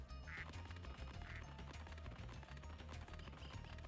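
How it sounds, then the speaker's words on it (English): Duck quacks ring out in Spyro 2: Ripto's Rage, several short nasal calls over a busy, rhythmic game music backdrop. "And now it's turned into a living duck, apparently."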